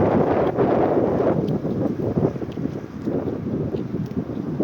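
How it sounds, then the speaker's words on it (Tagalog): Strong, cold wind in a park buffets the microphone with a loud, continuous roar that surges and eases slightly, with no voices heard. "Grabe ka kusog ang hangin diri guys. Windy kay karon."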